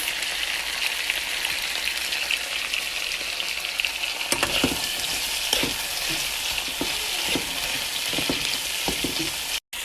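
Tomato and jalapeno fry with potatoes for kofta and potato soup, giving a steady, loud sizzle. Light stirring ticks run through the middle stretch.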